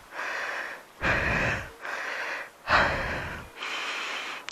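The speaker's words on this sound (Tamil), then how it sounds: "ரொம்ப மூச்சு வாங்குது." Heavy, close breathing after a motorbike ride and a walk up to a Yercaud hill viewpoint: four or five loud, ragged breaths in and out at a steady, labored rhythm, with no talking.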